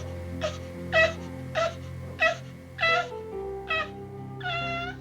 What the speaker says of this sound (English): Her cat-like cry is almost the only sound she can make.